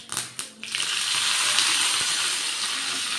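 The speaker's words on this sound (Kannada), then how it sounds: "ಕರಿಬೇವು ಸೊಪ್ಪು, ಸಣ್ಣ ಈರುಳ್ಳಿ ಎಲ್ಲನೂ ಒಗ್ಗರಣೆ ಕೊಟ್ಕೊತೀವಿ." Curry leaves and small onions dropped into hot oil for a South Indian tempering: a few quick clattering knocks, then a loud, steady hissing sizzle that holds to the end.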